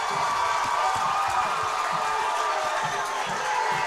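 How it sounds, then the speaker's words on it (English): A high school football crowd at Wichita Northwest vs. Bishop Carroll roars and cheers after a defensive stop, a continuous wash of voices and clapping from the stands, with an announcer talking over it. "And the crowd goes wild, folks."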